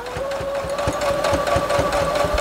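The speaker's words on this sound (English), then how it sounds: "You can't trust your machine, especially when it's got a thickness like this." A sewing machine stitches through thick quilted pillow fabric: a steady motor whine runs under rapid, even needle thumps at about four per second, close and fairly loud.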